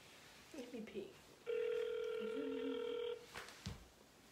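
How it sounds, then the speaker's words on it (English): An outgoing phone call rings back with one steady electronic ring tone lasting about a second and a half, with brief voice sounds before and after. "I'm gonna call one more time."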